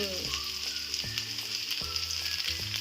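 Chopped green chillies sizzle in hot oil for tadka dal, a steady close crackle and hiss with a few soft stirring knocks at regular intervals.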